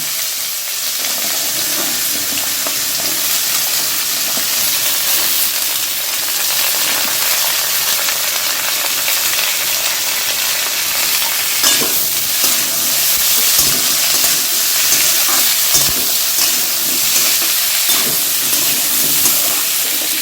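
Carrots and beans fry and sizzle in a pan for a vegetarian navratan korma, a steady close hiss of oil and moisture with occasional scraping stir sounds and no talk.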